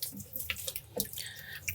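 Peppers scrubbed with a sponge in baking soda water make close, steady sloshing and dripping that rises and falls in quick bursts, with no voices.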